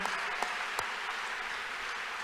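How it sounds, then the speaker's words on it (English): A church congregation claps in praise, a steady soft patter of many hands with a few sharper individual claps standing out, heard at a moderate distance. "Shall we clap unto God and appreciate Him?"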